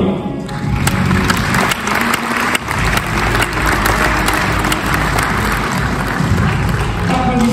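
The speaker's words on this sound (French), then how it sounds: "Applaudissements pour Thomas Briand" At a public presentation of Vendée Globe skippers, a big crowd applauds skipper Thomas Briand, starting with a few thuds and then swelling into loud, continuous clapping with crowd murmur, lasting throughout.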